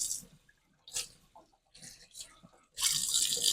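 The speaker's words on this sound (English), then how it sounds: "I rinse them off by hand." Tap water runs over catfish being rinsed by hand in a kitchen sink, coming in short splashing bursts with pauses, then a louder steady rush at the end; no talk is heard.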